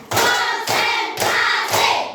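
Schoolchildren in an Indonesian classroom play a rhythmic clapping game, striking their hands together in unison four times with sharp, loud, evenly spaced claps and short pauses between.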